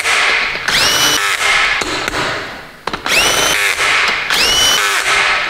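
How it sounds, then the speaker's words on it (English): A cordless drill with its clutch set whirs loudly in repeated bursts while driving bolts during an ARB Air Locker install, spinning up and cutting off, with clicking and thumps between runs. "I have my drill with the clutch set."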